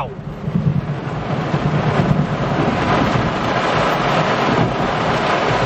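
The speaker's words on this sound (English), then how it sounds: "This is a violent thunderstorm." Violent thunderstorm chased in Walkertown, North Carolina, with heavy rain and wind roaring steadily and a deep rumble of thunder underneath, loud and continuous throughout, with voices faintly mixed in.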